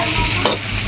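Tofu (tokwa) being stirred and fried in a pan for tiger skin egg, a steady sizzle with a brief louder scrape of stirring, close and alone without talk.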